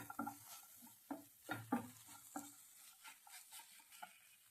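Ginger halwa being stirred after ginger powder goes in, with soft irregular scraping strokes and faint sizzle in a quiet pan, the strokes coming in loose clusters.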